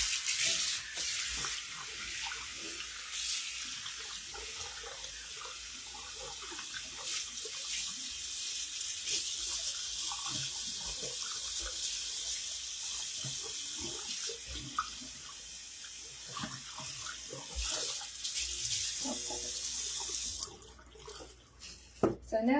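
A tap runs steadily into a sink being rinsed out, a constant hiss of falling water with small splashes, closing with a few knocks as the flow stops.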